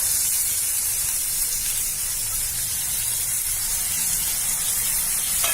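Chopped onion frying in oil in a pan on a low gas flame, giving a steady, even sizzling hiss that holds at a constant moderate level from start to finish, with no voices.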